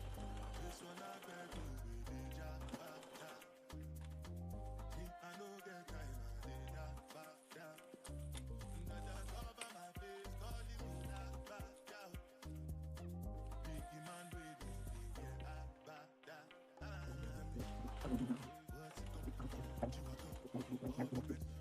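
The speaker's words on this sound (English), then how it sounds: "So I'm just basting this down to like 1/8 of an inch seam allowance." Sewing machine basting the seam of a large zip pouch at an eighth-inch allowance, running in bursts of steady rapid stitching that start and stop repeatedly, with a few pauses and a little background noise.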